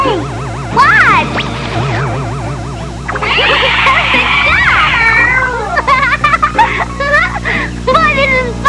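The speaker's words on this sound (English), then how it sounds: "there's a cat." A cartoon cat meows in wavering, drawn-out cries mixed in with busy music, sound effects and animated voices.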